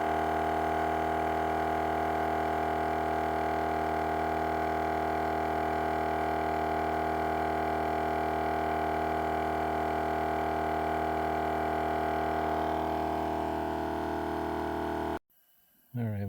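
A Napa air compressor runs steadily while filling tires, a constant droning hum with strong tonal bands lasting many seconds before cutting off abruptly near the end.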